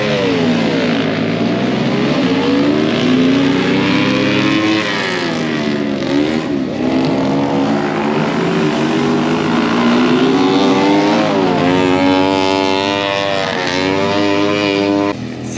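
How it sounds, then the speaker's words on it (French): Modified ride-on lawn mowers race at a country show, their small engines buzzing loudly and continuously, pitch rising and falling as they rev and accelerate, with no talk. "Les tracteurs tondeuses modifiés ça va vite hein."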